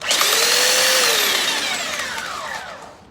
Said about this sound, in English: Lastly, we have the most aggressive of the three, and this is the belt sander.